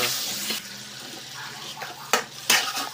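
Brown sugar and water cook with bananas in a pot while a utensil stirs, giving a soft background sizzle with a few sharp scraping clatters against the pan.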